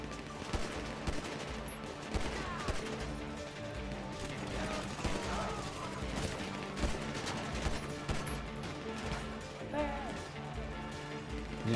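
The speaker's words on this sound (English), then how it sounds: "they started to shoot at us" Rapid gunfire from the video game GTA V rattles in dense bursts alongside explosive crashes over a busy game soundtrack, with people talking over the shooting.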